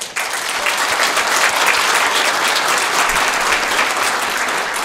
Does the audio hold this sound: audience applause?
yes